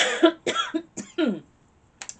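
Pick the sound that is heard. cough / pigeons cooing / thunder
cough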